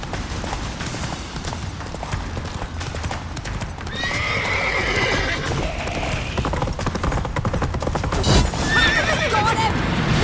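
Geralt's horse Roach in The Witcher 3 gallops with a steady drumming of hooves and gives several loud whinnies, while combat noise and voices sound in the background.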